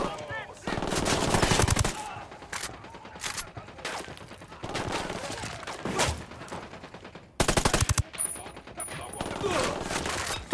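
Gunfire in the video game Ghost Recon Wildlands, with loud bursts of rapid automatic fire and single shots that come and go in clusters, heavy and close, with a voice briefly audible beneath them.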